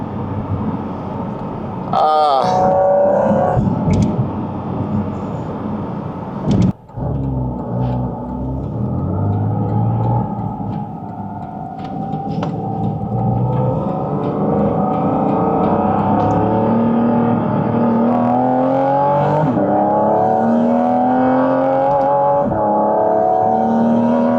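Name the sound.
Porsche 718 Cayman GT4 RS engine intake sound accelerating uphill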